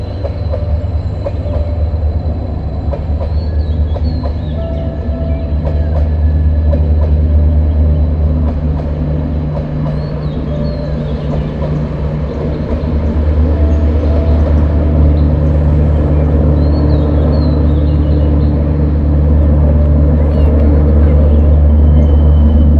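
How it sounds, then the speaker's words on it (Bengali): A train passes through Mongpong forest in Kalimpong, West Bengal, its loud continuous rumble and rolling wheel noise sustained and close, growing slightly heavier toward the end. "একটা ট্রেন আসছে, আমরা অপেক্ষা করছি ট্রেনটার জন্য।"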